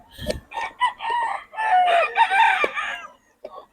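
Young roosters crow and cluck close by, with a short crow rising and falling over a few seconds, broken up by brief clucks.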